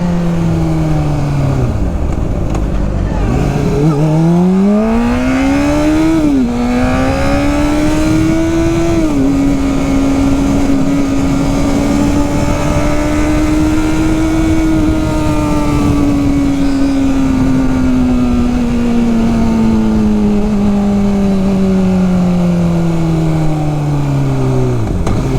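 A Honda CBR 600 motorcycle accelerates hard through the gears, its loud, close engine whine climbing in pitch, dropping at each quick upshift, then holding a steady high drone before easing down.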